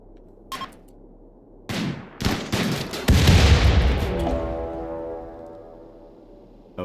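A gunfire volley in the RimWorld video game: a few sharp shots, then a dense burst of overlapping fire that swells into a loud, booming roar and slowly rings away into a fading tail.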